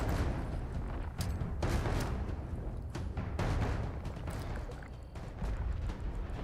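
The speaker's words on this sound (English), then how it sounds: "in terms of explosion, the nuclear grenades are bigger" Nuclear grenade explosions in Fallout 76: a dense, continuous rumbling roar of blasts and booms, with repeated sharp cracks cutting through the heavy low-end din.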